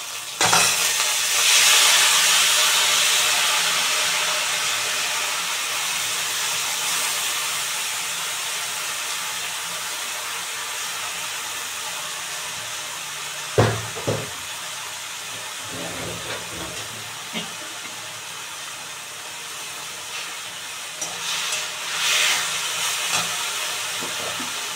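Taro leaves frying in a pan, a steady broad hiss of sizzling and steam running throughout, with a few sharp clinks and stirring knocks partway through.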